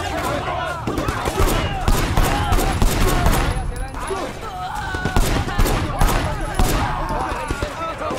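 Rapid video-game gunfire from Sleeping Dogs crackles in dense, repeated bursts, loud and continuous over several seconds, like a sustained shootout with overlapping shots.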